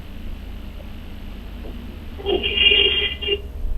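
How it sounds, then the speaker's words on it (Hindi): A telephone rings on the phone-in line of a call-in health advice show, a single bright electronic ring lasting about a second over a low, steady line hum. "फरजाना साहबा से बात कर लेते हैं, फ़ोन लाइन पर मौजूद हैं।"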